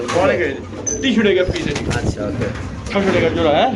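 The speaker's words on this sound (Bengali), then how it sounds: "সাদা কবুতর অনেকে সাদা কবুতর অনেকে পছন্দ করে" Pigeons coo nearby in soft, rolling calls while people talk over them; a light knock or bump is heard midway.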